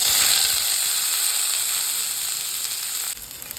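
Small onions (shallots) sizzle and fry steadily in hot oil in an iron pan, a loud continuous crackling hiss that eases slightly toward the end.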